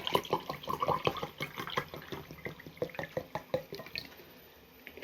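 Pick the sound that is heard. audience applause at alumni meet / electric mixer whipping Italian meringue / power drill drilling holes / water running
water running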